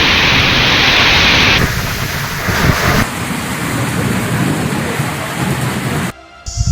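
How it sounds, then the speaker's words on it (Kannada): Heavy pre-monsoon rain pours during a thunderstorm in Karnataka, a loud, dense hiss of rainfall with low rumbling and shifting intensity, then a brief dropout near the end. "ಕರ್ನಾಟಕದಲ್ಲೂ ಮುಂಗಾರು ಪೂರ್ವ ಮಳೆಗೆ ರಾಜ್ಯದ ಹಲವೆಡೆ ಅಲ್ಲೋಲ ಕಲ್ಲೋಲವೇ ಸೃಷ್ಟಿಯಾಗಿದೆ"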